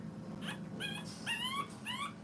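A two-week-old French bulldog puppy whimpers in a series of about four high, wavering cries, close and fairly quiet, with no one talking.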